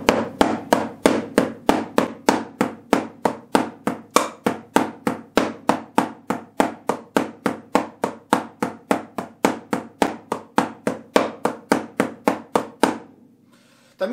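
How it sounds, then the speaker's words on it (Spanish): Drumsticks held in traditional grip play double strokes, two on the right and then two on the left, each hit made without using the rebound. About forty crisp, evenly spaced wooden strikes sound close and loud, alone, before stopping. "Primero vamos a trabajar con doble golpe derecha y doble golpe izquierda, pero no usando el rebote."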